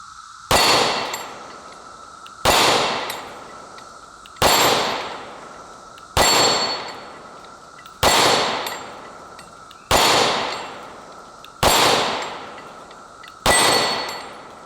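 An M&P Shield Plus pistol fires Sig hollow points at a steel target, giving eight loud, evenly spaced shots, each followed by a ringing metallic clang from the steel plate.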